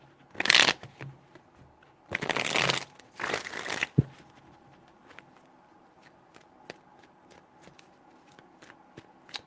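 A deck of tarot cards gets three quick riffling shuffles close up, one short burst followed by two longer ones, then only faint clicks and taps of the cards in a quiet room.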